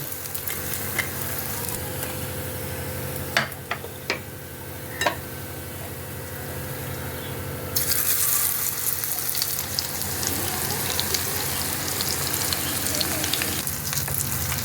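Amudi fish pakoras deep frying in hot oil, a constant close crackling sizzle with a few sharp utensil taps early on, growing louder and hissier partway through as the frying intensifies.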